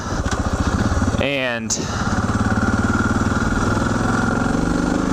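A Suzuki DR650 motorcycle fitted with a Procycle jet kit, its single-cylinder engine thumping steadily at a loud, close idle, with a brief revving rise near the start and someone speaking briefly over it.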